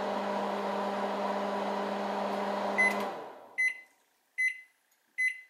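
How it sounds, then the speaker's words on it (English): A microwave oven hums steadily for a few seconds, then stops and gives three short, high beeps with brief pauses between them. "you wait patiently for it to microwave for 1 minute"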